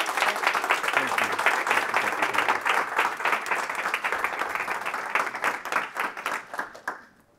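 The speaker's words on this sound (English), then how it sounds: "Another round of applause, please." Audience applause at an academic symposium on digital Blackness in the archive: dense, steady clapping from a seated crowd that holds for several seconds, then thins into scattered claps and fades out.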